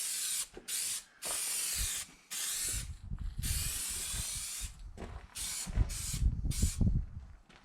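An aerosol spray can coats a car body with high build primer during rust repair, letting out several close, loud hissing bursts separated by short pauses and softer handling clatter.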